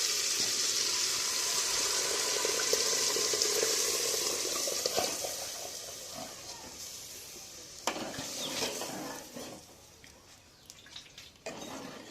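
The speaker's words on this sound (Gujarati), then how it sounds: "હવે આપણે એમાં દાળ નાખી દેવાની છે" Lentils tipped into a pan of softened cooked tomato, a strong frying sizzle that gradually quiets, with occasional stirring knocks and clinks near the end.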